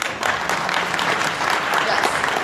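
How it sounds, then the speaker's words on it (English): Steady applause from an indoor conference audience at a libertarian gathering, dense clapping filling the whole stretch at an even level. "Yes, they deserve the applause"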